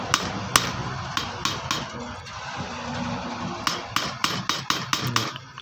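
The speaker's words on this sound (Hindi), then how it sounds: "अब हम इसको नट कसेंगे" A wrench tightens a nut on a Maruti 800 alternator during a repair, giving sharp metallic ticks, a few spaced out at first and then quicker bursts near the end, over a low background hum.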